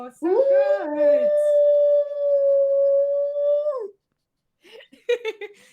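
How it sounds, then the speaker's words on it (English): A pet dog named Brody lets out one long, steady, mournful howl up close, trailing off, followed after a pause by a few short yips and whimpers. "He dropped his biscuit as he started howling"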